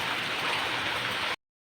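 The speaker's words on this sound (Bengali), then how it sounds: "জোরে বৃষ্টি পড়ছে, বাপরে বাপ, প্রচণ্ড জোরে বৃষ্টি পড়ছে" Heavy rain pours down in a sudden downpour after a sunny morning, a dense steady hiss that cuts off abruptly after about a second and a half. No voices are heard.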